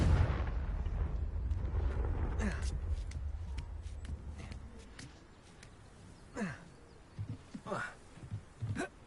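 A Confringo blasting spell explodes in Hogwarts Legacy on PS5, a deep booming rumble that rolls for several seconds before fading into quieter in-game sounds and brief voice-like bursts.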